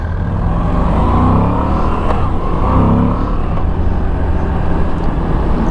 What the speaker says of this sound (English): This bike revs really quick. It revs really quick, and it's very smooth.